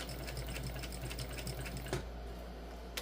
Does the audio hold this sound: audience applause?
no